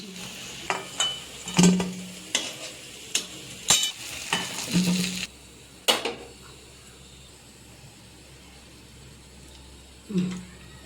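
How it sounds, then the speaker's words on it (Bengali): Boiled potatoes fry in a pan with nigella seeds, with repeated scraping and clacking of a spatula stirring, busy at first, then a quieter steady sizzle. "সেদ্ধ আলু করা ছিল ওটা একটু ভেজে নিলাম"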